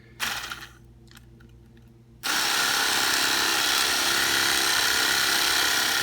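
A Black & Decker electric knife cuts into a smoked brown-sugar-glazed ham. After a brief clatter, the motor starts and runs as a loud, steady buzzing whir for several seconds, close by.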